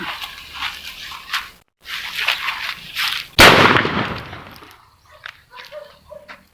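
A homemade bird-scaring cannon made from 2-inch PVC pipe fires once with a sharp, loud bang that decays into a brief rumble, preceded by handling noises and followed by quiet chatter.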